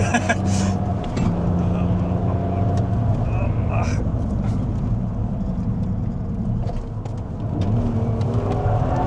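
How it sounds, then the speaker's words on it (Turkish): From inside a Hyundai i20N or BMW Z3 Coupe on the move, a loud low engine drone rises and falls with throttle, steady and close, with people talking over it. "şu an sadece motor sesi geliyor. Hiç rüzgar sesi falan yok."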